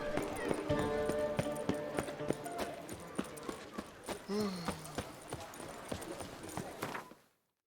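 Horse hooves galloping in The Witcher 3: Wild Hunt, a steady rhythmic clip-clop over game music, with a brief whinny midway before the sound cuts off.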